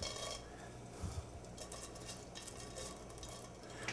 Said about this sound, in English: I'm going to cover the bottom of the pan so we're toasting them